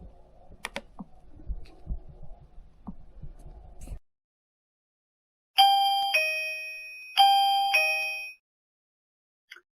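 A no-subscription wireless video doorbell chime rings twice, clear two-tone electronic ding-dongs close by, following soft keyboard-like clicks and tapping at the start.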